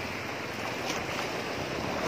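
Sea waves at a beach where green mussels are gathered, a continuous broad wash of surf and rushing water with wind buffeting the microphone, steady and fairly loud with no voices.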